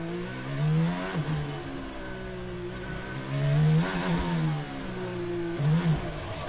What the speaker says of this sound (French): Il met un petit coup d'accel avant de prendre le virage.